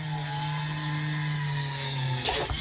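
A power drill bores a hole through a motorbike fairing, a steady loud motor whine running throughout, then a brief rougher burst near the end as the bit breaks through.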